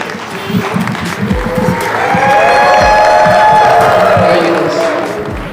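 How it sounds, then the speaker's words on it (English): An audience applauds and cheers a creator at a London event, building from scattered claps into a loud, sustained roar of clapping and cheering that peaks near the middle and stays full to the end. "Please give her one round of applause for Wavy, the creator"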